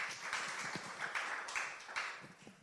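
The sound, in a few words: audience applause for guest Calvin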